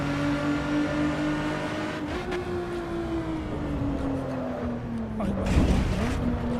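Lotus V6 race car engine in the racing game Assetto Corsa EVO, a steady droning engine tone that slowly falls in pitch, then revs briefly near the end, heard close and continuous.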